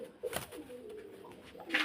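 Pigeons for sale cooing softly in short low-pitched phrases, with a quiet background and a brief higher chirp near the end.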